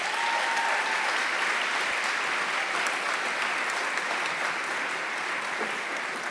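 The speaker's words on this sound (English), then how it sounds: "please join me in a round of applause for Om Bosale," Audience applause at a university business school awards ceremony for award-winning students, a steady dense wash of clapping that holds at even loudness for the full stretch with no talk over it.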